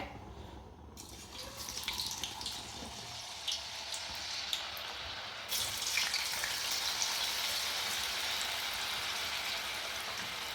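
French fries frying in hot oil, a steady hiss and crackle that swells as more potatoes go in, continuous and fairly close with no talking.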